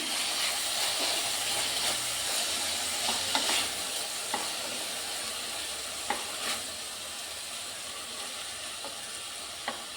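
Finely chopped native tomatoes fry with onions in a pan for rajma masala, a steady close sizzle and hiss with a few soft spatula clicks scattered through, no voices.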